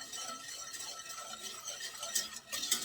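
A whisk stirs whole milk and granulated sugar in a pot, giving a steady soft swishing and scraping, with a couple of light clinks near the end.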